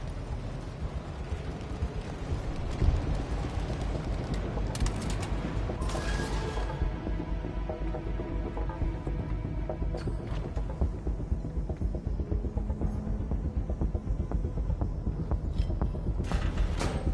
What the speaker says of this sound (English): The rickety conveyor was feeding trash into a crusher